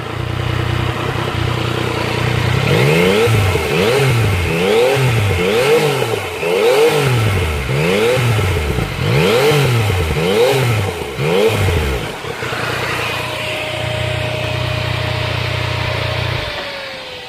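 A 2017 Yamaha MT-09 motorcycle engine is revved repeatedly in B riding mode, each rev rising and falling in quick rhythmic bursts, loud and close, before settling back to a low idle.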